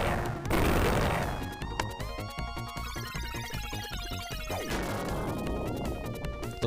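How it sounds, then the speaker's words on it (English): Explosions in the Rocket Knight Adventures video game burst out as a loud crash, followed by a dense run of rapid blasts layered over game music. "For now, explosion!"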